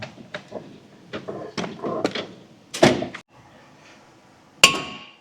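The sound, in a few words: hammer tapping brake rotor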